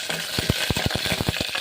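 Four chopped green chillies hit hot oil for upit, bringing a steady bright sizzle with a quick run of rhythmic stirring scrapes and clinks close up.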